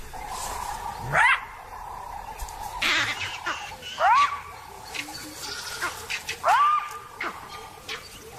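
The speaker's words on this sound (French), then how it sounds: "Aux aboiements des chacals font écho les cris des singes verts qui se font entendre dans le lointain." Several loud yelping jackal barks ring out one after another, each rising sharply in pitch, with quieter calls and rustling between them in an open outdoor setting.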